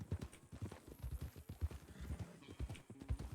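Hooves clip-clop at a relaxed walking pace in the western roleplay game RedM. The steps fall in an even, repeating rhythm, moderately close and fairly quiet, with no speech over them.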